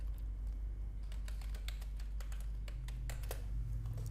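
A computer keyboard tapped in irregular, close clusters of crisp keystrokes while composing Urdu text in InPage, fairly quiet against a low steady room hum.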